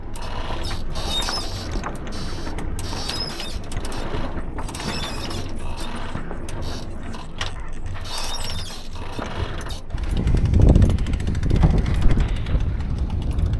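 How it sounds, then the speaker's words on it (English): On a sailboat off Turkey's west coast, the genoa is unfurled and the mainsail trimmed, with steady creaking, ratcheting winch clicks and line noise over wind, growing heavier toward the end. "genoa's out, mainsail's up. We're just trimming the sails as best we can"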